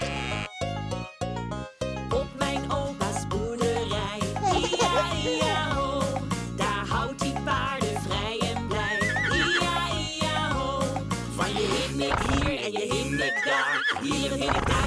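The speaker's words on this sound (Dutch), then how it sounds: "Hier een hinnik, daar een hinnik, overal een hinnik." A horse neighs and whinnies repeatedly over a bouncy children's farm song, the calls rising loud against the steady music throughout.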